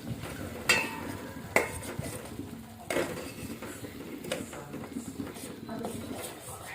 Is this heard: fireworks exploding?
no